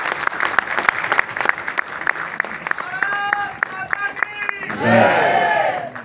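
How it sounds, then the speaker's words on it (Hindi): A large ceremony audience breaks into loud applause with some cheering and shouts, the dense clapping steady at first, then thinning as voices and a swelling crowd sound rise near the end. "मैं आपके अभिनंदन के लिए आपसे जोरदार तालियों की दरख्वास्त करता हूँ।"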